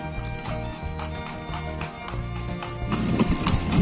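Horse hooves of an andong, a horse-drawn carriage, clip-clop steadily on the streets of Jogja over a continuous hum of traffic and street noise that swells toward the end.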